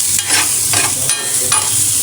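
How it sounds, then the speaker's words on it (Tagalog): Bitter gourd (ampalaya) sautéing in a pan makes a loud, constant sizzle, broken by the rhythmic scrape of a stirring utensil about every half second, close up, with no speech. "Nagisa na natin ito ng maayos guys"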